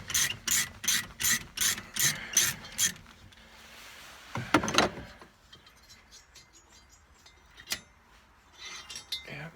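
A ratchet wrench works loose a stud on a 1979 Arctic Cat Jag snowmobile, opening with a run of about eight evenly spaced loud clicking strokes. A scrape and a few faint clicks follow.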